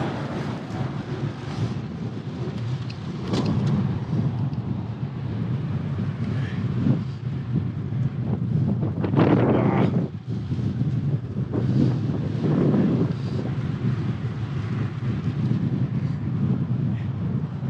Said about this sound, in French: Il y a un vent, les amis.